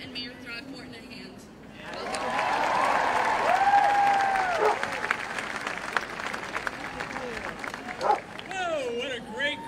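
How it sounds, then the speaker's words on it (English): A large outdoor crowd at a climate strike rally in Iowa City breaks into applause and cheering. Sustained clapping swells in after a quiet start, with a loud whistle and scattered shouts, then fades as a speaker's voice returns. "So, so I would like to give City Council, our City Manager, and Mayor Throckmorton a hand"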